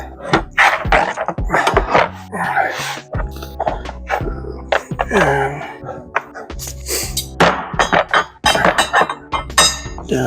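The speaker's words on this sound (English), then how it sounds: "Slide them in here like this, and then just gonna place a wrench on there." Metal wrenches are slid and set onto a Toolgrid toolbox drawer organizer, giving a run of close clinks, knocks and thunks with irregular timing and a few short breathy noises between them.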